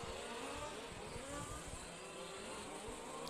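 Off-road RC model race cars in a large-scale EFRA European championship qualifying session, small engines buzzing and revving at a distance, a faint continuous whine with no talk.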